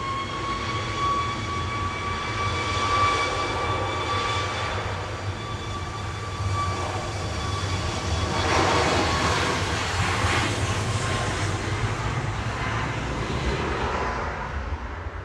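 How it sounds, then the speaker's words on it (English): A SunExpress airliner bound for Antalya takes off from Manchester Airport, a loud, steady jet roar with a thin engine whine that swells in the middle and slowly eases off, with no voices. "Sun Express heading off to Antalya."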